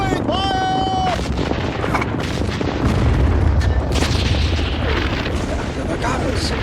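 Big guns fire in a desert battle scene, with deep booming blasts and bursts layered over continuous loud combat noise and a rising whistle near the start, while shouted voices cut in.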